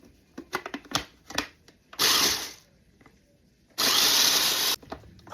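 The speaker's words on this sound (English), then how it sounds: "put it directly into our little food processor. And then we're going to grind it" A small food processor grinding breadcrumbs: rattling clicks and knocks as it is set up, then two loud whirring bursts of under a second each, separated by a pause.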